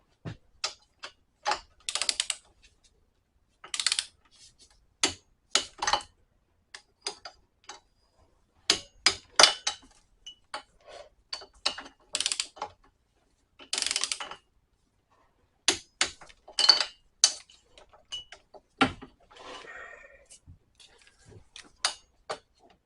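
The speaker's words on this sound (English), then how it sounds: "Now we'll get our torque wrench on the first go around." Torque wrench tightening bolts on a Troy-Bilt Horse XP tiller, sharp ratcheting clicks coming in short separated bursts across a quiet background, close and clear with pauses between pulls.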